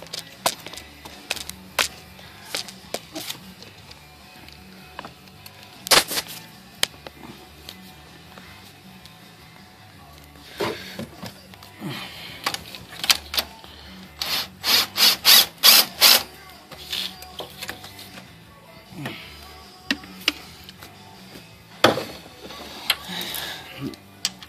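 A wrench loosens 13mm bolts on a GM 3.1/3.4 V6 engine, giving bursts of close ratcheting clicks and metallic taps, sometimes in quick runs, with someone talking at times.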